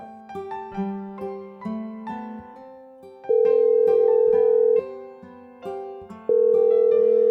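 A phone ringtone plays a repeating electronic melody of stepped tones, loud and clear, with short pauses between phrases.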